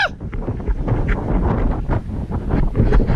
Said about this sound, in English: Ooh, that wind's whipping up here.